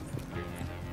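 Horse hooves clip-clopping in Red Dead Redemption 2, a steady short run of nearby hoofbeats over a busy game background with music-like tones.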